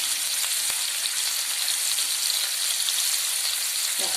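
Curry leaves, shallots, garlic, coconut pieces and ginger sautéing in a pan for Central Kerala–style beans mezhukkupuratti, a steady close hiss of frying oil with a faint stir or scrape near the end.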